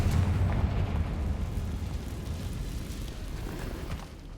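A Confringo spell explosion in the video game Hogwarts Legacy, a heavy deep boom with a rumbling roar that slowly decays over several seconds, loud and close, no talking.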